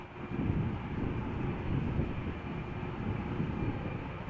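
A SunExpress airliner in Istanbul special livery at Amsterdam airport gives a steady, broad jet roar, loud and unbroken throughout with no talk.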